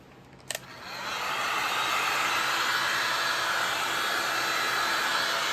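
A hair dryer drying stencil paint clicks on after a faint start and spins up into a loud, steady, close-up blowing hum that holds for several seconds.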